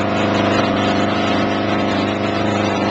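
An air-operated ToteTank agitator runs wide open at about 50 RPM, a loud, steady, close mechanical drone with a continuous pneumatic hiss and no change in pace.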